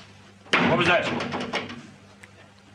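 A heavy door slams or bursts open as a radio drama sound effect, one loud broadband impact followed by rattling and clattering debris that fades over about a second, with a faint low hum underneath.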